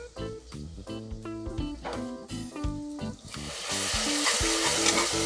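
Masala for prawn biryani frying in a pan, tonal scraping strokes at first, then yogurt going in and a broad, loud sizzle rising and holding steady, close up.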